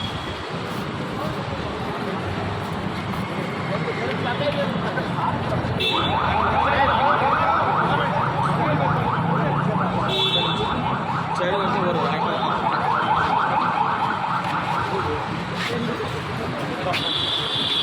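An emergency vehicle siren wails steadily in a busy street near Chanchalguda jail, rising and holding over traffic noise while people talk nearby.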